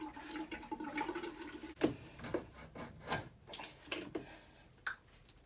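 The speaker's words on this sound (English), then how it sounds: "And then we'll just drain water out of it." Water drains out of an open copper plumbing pipe after push-fit stop ends come off, a quiet trickle and gurgle broken by several soft knocks and rubbing handling sounds, close by and without speech.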